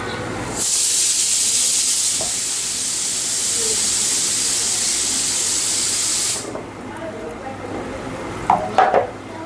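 Vegetables sizzle in a hot pan with a loud, steady hiss for about six seconds, then it drops away to quieter kitchen clatter and a few light clinks of utensils.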